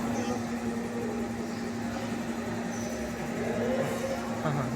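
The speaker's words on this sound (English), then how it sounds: "Then start compressor." An air compressor runs steadily in a lab, feeding an air-box rig for measuring air discharge, with a constant mechanical hum and a strong low tonal drone throughout, fairly quiet and continuous with no pauses.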